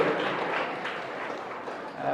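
Crowd applause from an audience at an education fair, a soft, steady patter of many hands clapping that holds evenly throughout.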